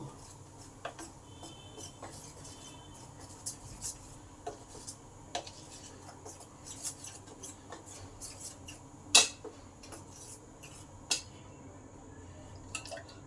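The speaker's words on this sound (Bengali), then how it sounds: "এবার চামচের সাহায্যে এটাকে ভালো করে মিশিয়ে দেবো" A spoon stirs dosa batter thinned with water in a bowl, producing quiet, irregular clinks against the rim and soft wet taps and drips, with one sharper knock partway through.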